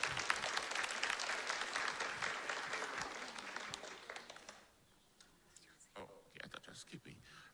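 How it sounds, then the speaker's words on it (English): Applause from an audience fills the first few seconds, then fades out, leaving a quieter room with scattered clicks and faint rustling. "a big round of applause"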